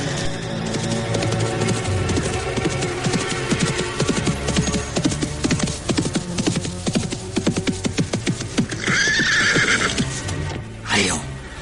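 A horse neighs and whinnies loudly while hooves clip-clop in a steady rhythm beneath it. The sounds come from a period drama, and voices and a music bed also run through the scene.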